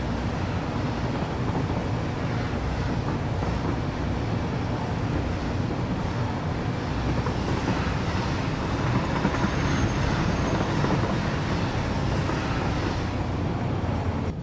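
Train rolling along a rail line in the video game Satisfactory, a continuous loud rumble of wheels on track with faint squeals, steady throughout.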